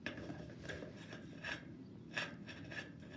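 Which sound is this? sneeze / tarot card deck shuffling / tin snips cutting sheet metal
tin snips cutting sheet metal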